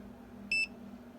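A second clamp meter powering on, set beside a Kobalt 400A AC True RMS model, sounds a single sharp, fairly loud electronic beep lasting about a tenth of a second over a low background hum.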